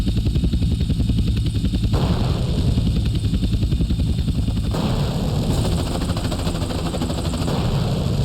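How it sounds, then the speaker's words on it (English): Loud, continuous rotor thumping and engine whine from helicopters in the video game GTA San Andreas, rumbling steadily for several seconds with shifts in tone as the aircraft move and clatter around. "My god, those helicopters."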